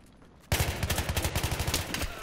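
Rapid bursts of KH2002 assault rifle fire in Battlefield 3, a loud sustained automatic volley starting abruptly after a brief quiet moment, with rhythmic repeated shots and no talking.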